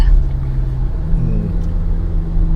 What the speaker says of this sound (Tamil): பாருங்க, இன்னும் டிராஃபிக்.